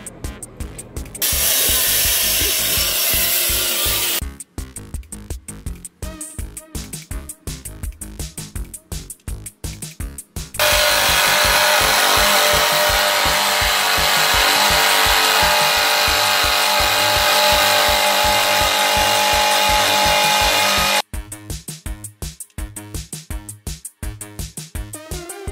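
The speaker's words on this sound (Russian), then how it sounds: "Ленточная пила. Хорошая штука." Loud mechanical sawing from a band saw cutting through a metal lock, alternating between a rapid rhythmic chattering and long sustained harsh grinding stretches, close and continuous.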